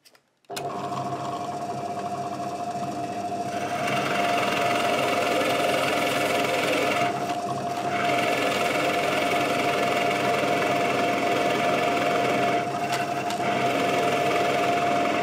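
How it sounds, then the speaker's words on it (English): A drill press bores out wood with a Forstner bit while a custom bass guitar is being built. Its motor gives a steady, loud, close hum with a constant whine, running without a break. "So we'll just head over to the drill press now and we'll start to take away all this material."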